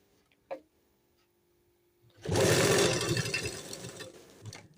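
A sewing machine stitches the lining of a kurti in one steady run of a few seconds, a close, rapid mechanical whir, after a single soft click and near-silence.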